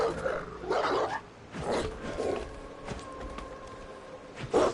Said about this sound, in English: Got the dog already ready to attack us.